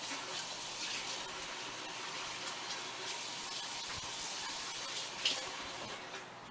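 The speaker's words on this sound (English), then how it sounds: "Oh, I gotta wash my hands" Running tap water in a home kitchen while hands are washed, a steady close gush with small splashes and shifts in the flow, no talking.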